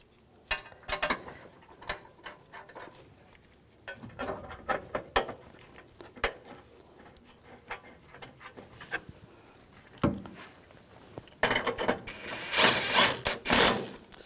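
Bolts being threaded and tightened by hand on the thermostat tray of a 2010–2017 Chevrolet Equinox 3.6L, a close series of faint ratcheting clicks and metallic taps that builds to a louder burst of ratcheting near the end.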